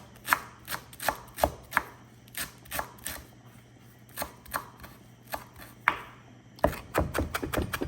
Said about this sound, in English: So we're just gonna cut up the cilantro.